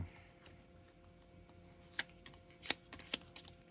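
Tarot cards are shuffled by hand in a quiet room, giving soft rustling and a few sharp riffling snaps and taps near the end, faint and close with no speech.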